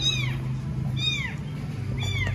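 A cat gives three clear meows, about one second apart, each a short falling cry heard close by over a steady low hum in the room.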